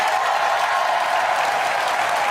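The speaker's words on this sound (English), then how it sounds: "hit that applause sign again" Audience applause fills the room, a thick, steady wash of clapping at constant loudness with no speech, cutting off abruptly at the end.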